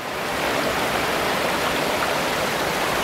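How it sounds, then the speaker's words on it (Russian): Loud, continuous rushing water roars steadily through a spillway at a breached camp pond in Siberia in April, a dense broadband wash with no pauses. "Как вода шумит. Поток Божий полон воды."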